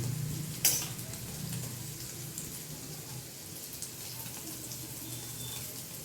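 Cubes of paneer fry in a pan with a steady, soft sizzle, opening with a brief sharp hiss and clatter, then settling into an even crackle throughout.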